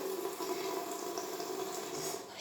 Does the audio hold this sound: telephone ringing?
no